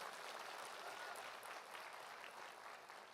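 An audience at a guest speech event claps steadily, a dense continuous round of applause heard at moderate distance throughout, fading slightly near the end.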